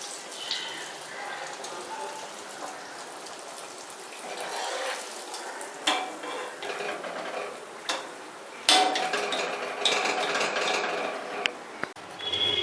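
Athirasam, a sweet jaggery-and-rice-flour dough disc, fries in hot oil with a steady broadband sizzle and scattered crackles and pops that swell and fade over several seconds.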